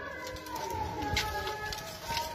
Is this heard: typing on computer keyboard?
no